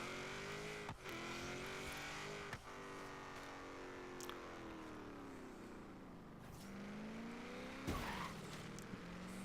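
A 1950s Corvette driven in the racing game Forza Horizon 3, its engine note rising and falling through gear changes, with sharp tyre squeals and skids; steady, fairly faint and without speech.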